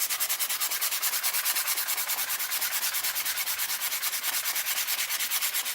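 Wood is sanded by hand with coarse 40 grit sandpaper in quick, even back-and-forth strokes, a rhythmic scratchy rasp that carries on steadily and close with no talking.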